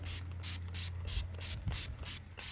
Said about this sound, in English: Spray it down and wipe it really good.